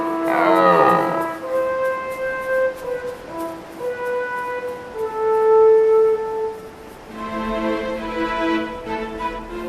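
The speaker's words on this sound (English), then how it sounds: "All day long, the rotting calls of stags echoes from the slopes." Deep, drawn-out rutting roars from red deer stags in autumn on the Arlberg mountain slopes, a strong one at the start followed by several long tonal groans, echoing across open ground.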